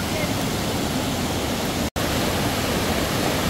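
Steady, loud rush of a waterfall at Lata Berangin in Kuala Krai, Kelantan, filling the whole clip as broadband roaring water, with one brief dropout near the middle.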